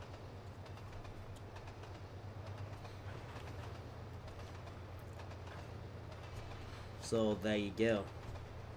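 Diesel train running in Trainz Simulator 2, a faint steady low engine hum with rhythmic rail clatter, and someone speaks briefly near the end.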